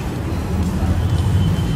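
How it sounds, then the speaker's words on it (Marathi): Traffic passes outside an abandoned building, a low, continuous road rumble heard from indoors, muffled and steady with slight swells. "गाड्यांचा आवाज येत असेल बहुते"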